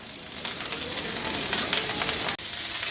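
Cauliflower florets frying in a pan over medium heat for aloo gobi, giving a steady, close hiss of sizzling oil with faint crackles throughout and a brief dip near the end.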